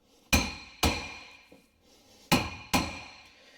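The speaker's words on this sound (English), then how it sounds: "I'm just going to start hitting on the old rotor" A small hammer strikes a warped brake rotor from a Nissan Pathfinder five times in an uneven rhythm. Four blows are sharp and ringing and one is softer, each leaving a brief metallic ring.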